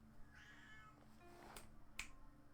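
Charlie, a pet cat shut out of a room, gives one drawn-out meow that fades, followed by a couple of small clicks, faint against a steady background hum.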